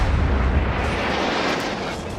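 Heavy naval gunfire in the World of Warships game, a deep booming salvo from a Soviet cruiser exchange, loud and rumbling, then a sustained roar of impacts and battle noise with no talk.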